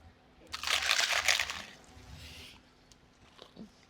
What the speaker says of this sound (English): it's crunchy in every bite